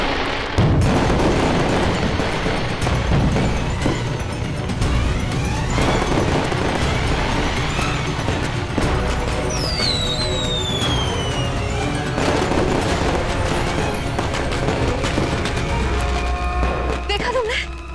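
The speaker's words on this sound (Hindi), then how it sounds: "पटाखे भी चल रहे हैं" Fireworks crackle and boom repeatedly amid whistling rockets and a busy festive din, loud and dense throughout, with people talking.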